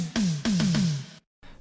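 Synthwave tom drums play a short descending melody of four heavily reverberated hits, each a booming pitched thud with a long wash of reverb, ending in a brief silence before another hit begins.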